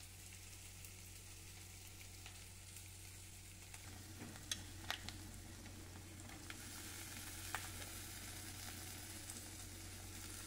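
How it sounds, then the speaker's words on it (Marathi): Onion and tomato roasting in a pan give off a faint, steady sizzle over a low hum, with a few soft stirring clicks and no voices. "कांदा टोमॅटो पूर्ण आपण आता भाजून घेऊया।"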